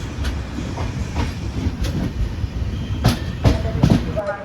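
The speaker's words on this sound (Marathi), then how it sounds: "त्या साईडला जाणारी ट्रेन आहे बघू शकता" An electric train on the Konkan Railway rolls past near Sangameshwar Road, its wheels beating a steady clickety-clack over the rail joints with a continuous rumble, loud and close throughout.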